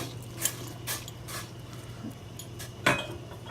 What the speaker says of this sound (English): hold on, let me stir it up